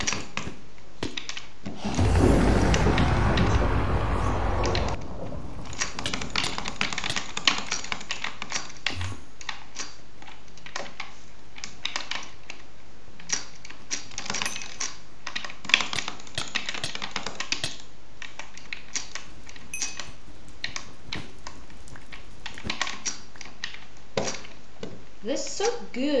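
Rapid, dense clicking of a computer mouse being drag clicked, bursts of tiny sharp clicks running for long stretches after a loud rustle near the start, with a voice talking at times.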